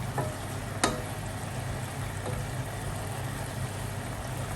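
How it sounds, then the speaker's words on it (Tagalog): Beef for igado sizzles continuously in a pan, a steady frying hiss with a low hum beneath and one or two brief utensil clicks against the pan. "Ang sinama ko lang muna ay yung karne ng baka."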